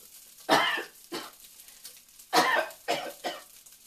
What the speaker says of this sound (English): I'm always coughing when I start cooking